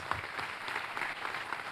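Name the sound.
congregation applauding in church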